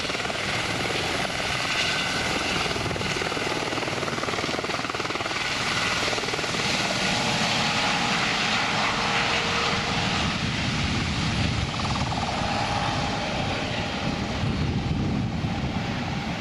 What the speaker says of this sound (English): This can't be the only one because there are helicopters galore.